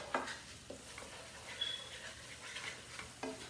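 A pasta mixture is stirred in a pan, giving faint soft scrapes and gentle sizzling with a few light clicks from the utensil.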